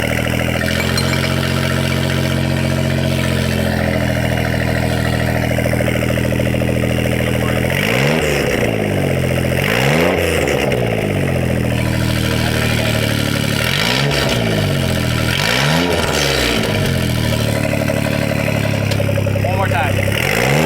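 A 1999 kei truck with a custom exhaust idles with a low, boiler-like rumble, then revs repeatedly in several rising and falling bursts, with people talking over the engine.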